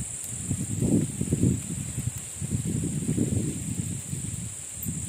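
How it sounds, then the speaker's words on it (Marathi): Strong wind blows outdoors at a village cooking spot, buffeting in loud, low, rumbling gusts that surge and fade several times over a constant high hiss. "वारं लय सुटलंय बघा."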